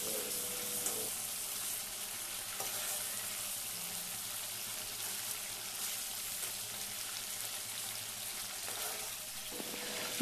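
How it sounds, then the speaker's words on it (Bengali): Shrimp frying in a pan of oil, a steady close sizzle and bubbling that runs evenly throughout without any voices. "এইরকম অবস্থা পর্যন্তই আমি চিংড়িটা ভাজবো।"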